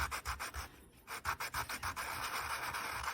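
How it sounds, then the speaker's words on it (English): A polymer clay ring rubbed against Abranet P80 mesh abrasive, a rapid series of close, rough rasping strokes in steady rhythm that then blur into a continuous scraping hiss. "Could probably sand a bit more off here."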